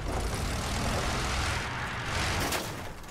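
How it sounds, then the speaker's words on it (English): A propeller airplane in the video game Battlefield 1 drones steadily overhead, loud and close, its engine tone slowly fading toward the end. "There's that plane again."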